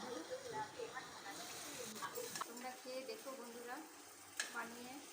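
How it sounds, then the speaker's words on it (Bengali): A spoon stirs fish roe curry in a frying pan, with a steady low sizzle beneath repeated scraping strokes against the pan, close and fairly quiet, while someone talks over it. "আরেকবার ঢাকাটা খুললাম, আর একটু নেড়ে নিলাম"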